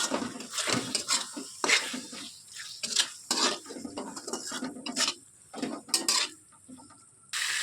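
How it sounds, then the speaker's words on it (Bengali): A utensil stirs chow mein masala with tomato ketchup in a metal pan, giving irregular scraping clatters and clinks against the pan with a soft sizzle underneath, close and fairly quiet. "আর দিয়ে নিচ্ছি একটু টমেটো কেচাপ। এবারে এটাকে আমি ভালোভাবে মিক্স করে নিচ্ছি।"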